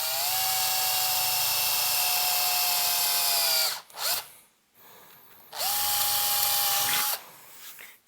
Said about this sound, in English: So we're going to drill through here.